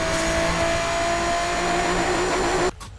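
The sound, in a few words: 4GT car engine revving in Asphalt 8 video game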